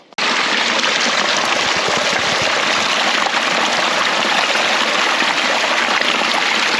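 A stream flows beside a hiking trail, a loud, close, continuous rush and babble of water that starts abruptly and holds steady with no voices.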